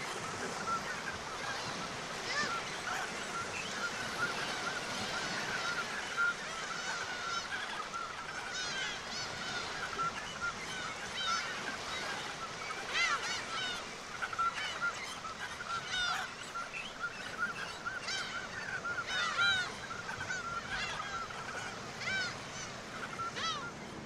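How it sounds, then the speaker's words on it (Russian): A colony of several thousand seabirds calls all at once, producing a dense, continuous wash of honking and squawking cries that carries on without a break, with faint surf beneath. "Сейчас колония насчитывает несколько тысяч птиц"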